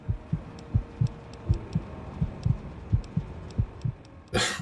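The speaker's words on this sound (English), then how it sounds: "my heartbeat." A low-health heartbeat warning from the video game Fallout 3 thumps in a steady double-beat rhythm, about a dozen pulses, moderately loud and alone, ending with a short burst of noise.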